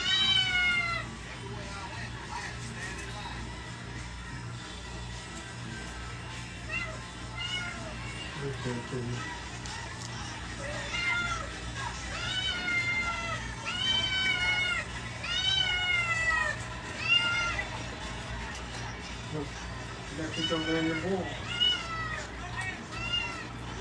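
A cat meows repeatedly during an indoor livestream, its calls rising and falling at close range, mixed with quieter human talk and room noise.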